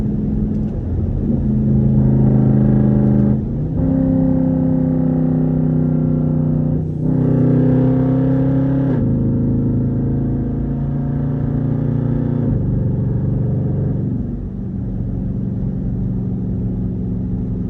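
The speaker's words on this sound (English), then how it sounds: "I might put it in sport, give y'all boys a downshift. Activate the paddles." A straight-piped Jeep in sport mode drops gears on its paddle shifters, its raw exhaust droning loud and close, with the engine note stepping up at each downshift and then settling.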